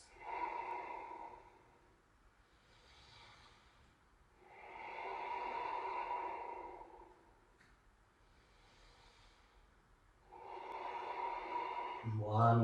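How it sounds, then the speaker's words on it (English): Slow, deep Ujjayi breaths held during a yoga pose, three long soft hissing exhalations with quieter inhales between, close and fairly faint, with no talking. "we stay for 3 more deep Ujjayi breaths"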